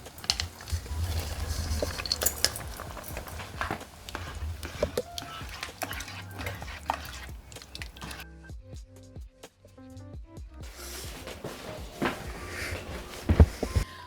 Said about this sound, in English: I'm going to stir this in and continue whisking as it melts.